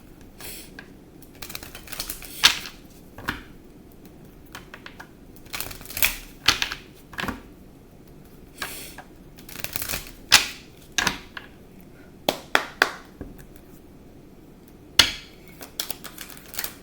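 Crisp riffling clicks and slaps of tarot cards being shuffled, in bursts with short pauses, close and fairly quiet.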